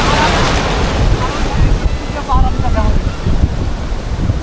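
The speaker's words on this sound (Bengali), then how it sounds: "কত বড় ঢেউ দেখছেন, কত বড় ঢেউ" Ocean surf rolls and crashes nearby at Cox's Bazar beach with a windy roar over the microphone, while faint voices and a brief whistle-like tone come through the wash.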